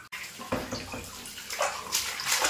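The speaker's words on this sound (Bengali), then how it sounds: "আর একটু জোরে করে দেবো ওই জলটা" Tap water pours into a bath for washing a newborn baby, a steady splashing flow close by with no voices.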